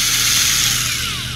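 A power drill whines steadily at close range while drilling into a Star Trek Picard 1:1400 scale U.S.S. Titan model kit, loud and continuous for the whole moment, its pitch easing down slightly toward the end.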